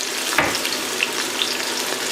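Celery and carrot mix frying in oil in a stock pot with onions, a close, steady sizzle and crackle with a brief stirring scrape near the start and no voices.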